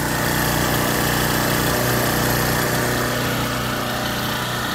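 A portable generator's engine running steadily after a pull start, a loud, continuous buzzing drone close by with no talk.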